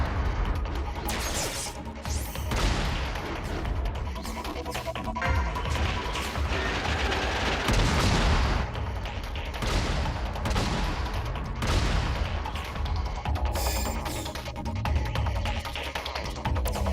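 Mech rockets fire in Front Mission 5, a dense, continuous barrage of overlapping blasts and crashing explosions with rolling booms, loud throughout.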